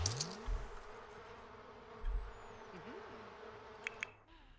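Bees in The Sims 4 video game hum in a faint, steady buzz that continues throughout, with a couple of soft tinkling clicks near the end.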